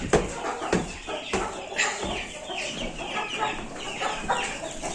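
Chickens cluck and squawk continuously nearby, a busy overlapping chorus of hens with occasional sharper calls.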